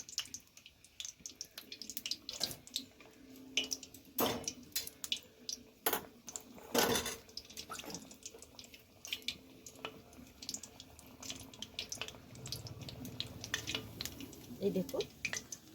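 Nimki dough fries in hot oil in a karai, giving a soft, irregular bubbling crackle with occasional sharper pops, heard under a person talking.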